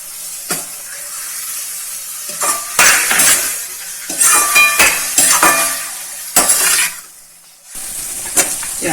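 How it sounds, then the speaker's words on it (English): Spices such as coriander and chilli powder are stirred into baingan bharta in a pan, with a spoon scraping and clanking against metal in uneven bursts over a soft sizzle. "I'm giving it a nice mix"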